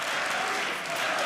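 A large crowd at a CS:GO esports final at DreamHack Winter 2014 in Jönköping applauding and cheering loudly, a dense continuous roar with no pauses.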